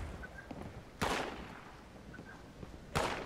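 Gunfire in Fallout 76 comes as two sharp distant shots about two seconds apart over a faint background hum, with no speech.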